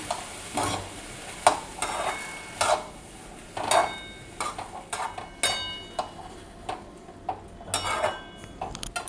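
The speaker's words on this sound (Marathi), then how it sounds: "आणि उकडलेला मटार हे सगळं ह्याच्यात घालून घेऊ आणि एकसारखं परतून घेऊ" Boiled peas, peanuts and corn being sautéed in a pan for bhel: a steady sizzle with repeated sharp scraping and stirring strokes of a spatula against the metal, close and fairly loud, with no talking.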